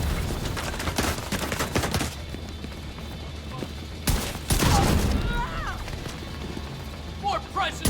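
Gunfire in The Division 2 video game, with sharp bursts of shots clustered early and again mid-clip, alongside game sounds and a voice talking between them.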